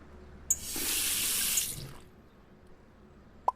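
Tap in the Cooking Simulator video game filling a large pot: a faint click, then a steady hissing stream of water pouring for about a second, tailing off, followed by a small clink.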